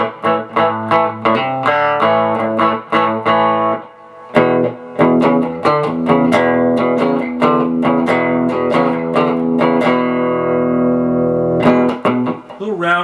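A hot-rodded Telecaster electric guitar on the neck pickup plays a run of quick picked notes and chords with a warm, rounded tone, loud and close, with a brief pause partway through.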